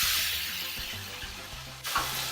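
Onions frying in a pan with cumin, turmeric and asafoetida for bhindi sabji, a steady close hiss and sizzle with faint stirring scrapes and a brief clatter near the end.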